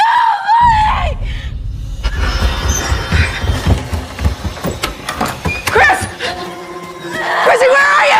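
A person screaming: shrill, wavering screams at the start and end with a busy, noisy commotion and voices between them.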